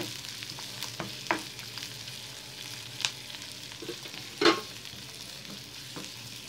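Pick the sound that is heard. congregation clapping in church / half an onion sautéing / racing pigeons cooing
half an onion sautéing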